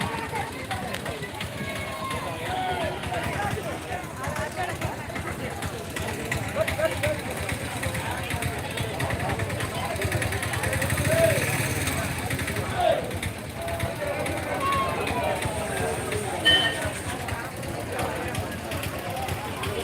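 A vehicle engine runs steadily at idle, a continuous moderate rumble at an outdoor vegetable market, with voices and crowd chatter mixed over it.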